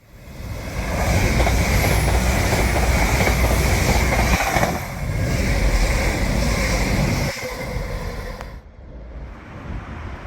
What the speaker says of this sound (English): taking a ride with Avanti West Coast on one of their Pendolinos